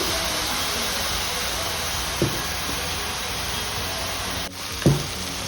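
Ginger garlic paste sizzles in a frying pan in a steady, loud hiss close up, with two brief knocks of a spoon or utensil near the end, no voices.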